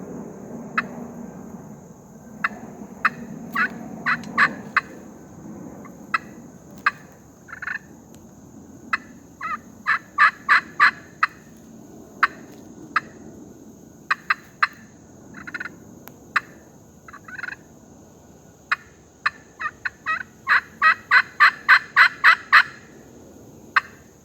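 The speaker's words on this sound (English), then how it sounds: "I'm just going to give you a little run of it, cluck of purrs and some yelps with a hickory striker" An S.T.D pot turkey call worked with a hickory striker gives clucks, soft purrs and yelps: scattered sharp raspy strokes build into rapid yelping runs, close and clear with no talking.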